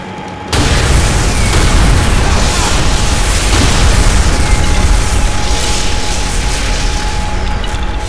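In Call of Duty: World at War, demolition charges explode in a deep, sustained rumble that erupts suddenly after a brief quiet start, staying loud and dense throughout.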